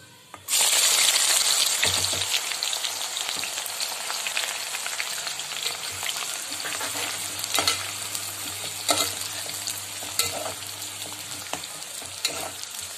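Chopped onions hit hot oil in a pan for mutton pulao and sizzle loudly and continuously, with occasional scraping stir strokes and metallic clinks cutting through the steady frying hiss.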